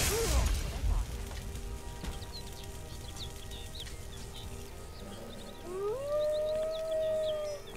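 Summoned dog howling in the video game Skyrim, a rising then sustained mournful howl near the end after a sharp opening hit and low game ambience, with sparse chirps in the background.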